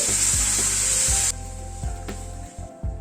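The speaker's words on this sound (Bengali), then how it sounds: "এবার গরম জল অ্যাড করে দিচ্ছি।" Hot water poured into a sizzling vegetarian gravy in a pan: loud bright frying hiss that abruptly drops to a softer bubbling simmer, with a few spoon or pan knocks.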